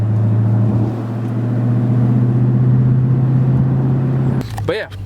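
Dodge Challenger SRT accelerating hard, a loud steady engine drone with a rising rumble that holds for several seconds before dropping off, while people talk inside the car.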